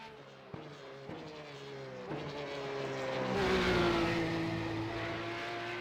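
A Porsche 911 GT3 Cup race car engine in iRacing at Bathurst, heard from outside the car, rises through several gear shifts with sharp cracks at each change, then swells into a loud sustained roar before easing slightly.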